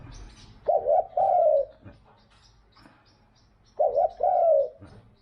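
A tame, hand-raised spotted dove coos close by in two distinct bursts, each a throaty, rolling phrase of several notes, separated by a quiet pause with faint background chirps.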